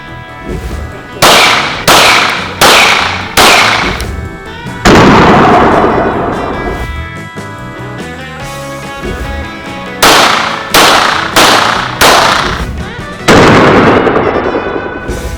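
Pistol shots from a Glock 48 9mm fired at a gun shop range, loud sharp cracks in quick groups of four with a heavier blast after each group, ringing echo between, no talk.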